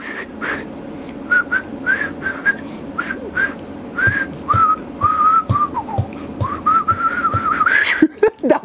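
Close, somewhat shaky whistling of a pop song tune by a man, a run of short tonal phrases with slides and gaps, over quiet background music, ending in breathy noise.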